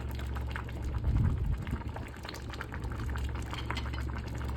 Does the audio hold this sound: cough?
no